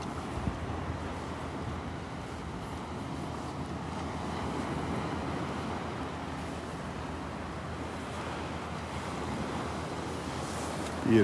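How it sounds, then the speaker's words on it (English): Ocean waves roll onto a beach in North Naples, Florida in a steady, low rumbling wash, with soft wind noise and no voices. "Love these waves out here as they just roll in."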